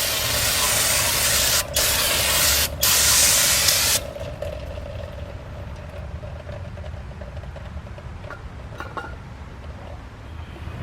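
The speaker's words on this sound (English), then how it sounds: "Get some brake cleaner, spray it around the area." A loud, steady aerosol spray of brake cleaner hisses in bursts for about four seconds around a car's rear parking brake area, broken by two brief pauses, then fades to a quieter background hum.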